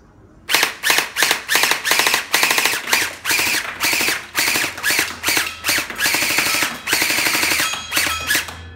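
A Bing Feng MK18 toy gel blaster fires a rapid series of sharp, snappy bursts in quick repeated volleys, loud and close, with short gaps between strings of shots.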